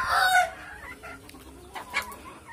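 Chickens being fed crickets, with a loud close squawk at the start followed by quieter clucks and calls, no talk.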